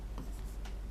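Pen or marker strokes on a writing surface during a lesson on Shaivism, a few short scratchy strokes close by with no talking.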